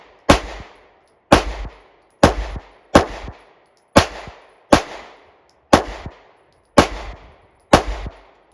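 Nine sharp, loud pistol shots from a Smith & Wesson SD9VE 9mm fired at an outdoor range at a 7-yard target, spaced roughly a second apart with brief ringing decay after each, no talking.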